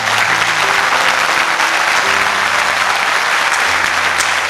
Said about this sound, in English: we as faculty members are hoping that we will continue to clap hands for you